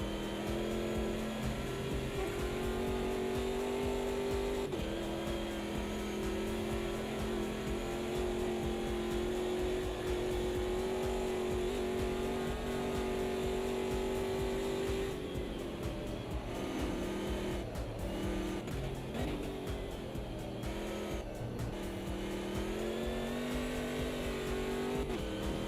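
A sim racing car's engine drones steadily and loudly throughout, its pitch rising and falling with the throttle as the back end slides out through a chicane on cold tyres, with no talking.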